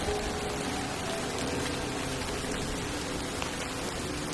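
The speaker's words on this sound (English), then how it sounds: "The relentless rain drummed against the windows like ghostly fingers" Steady, dense rain hisses and patters without a break on a rainy night. The noise is even and fairly quiet, with no voices.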